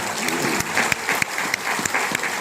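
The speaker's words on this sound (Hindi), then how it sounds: "तालियां मेरे लिए, अर्जुन सिसोदिया के लिए मत बजाना, तालियां योगी आदित्यनाथ के लिए बजाना" A crowd at a Kshatriya community honour gathering claps for Yogi Adityanath, dense continuous applause with a few sharper individual claps standing out, loud and close.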